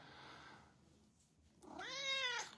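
Ken the cat gives a single clear meow near the end, preceded by faint room noise and a soft murmur, close and fairly quiet.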